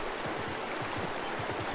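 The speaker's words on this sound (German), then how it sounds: "Schön mit dem Wasserfall." Waterfall scenery in ArcheAge gives a steady rushing, splashing water sound, continuous and moderately loud, heard alone for a brief moment.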